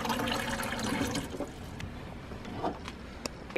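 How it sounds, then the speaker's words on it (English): Water runs from a Brita filter dispenser kept in a fridge into a water bottle, a soft trickling fill with small clinks and handling noises, quiet and close. "We are gonna go fill up my water."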